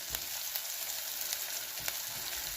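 Onions sizzle and fry in hot oil with green chillies, ginger and garlic for a potato and green beans curry, a steady close crackle with faint stirring bumps and no talk.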